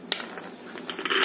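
Washed potatoes dropped into a pressure cooker: a few close, faint clatters and knocks of potatoes against the metal pot, spread over a short moment with no talking.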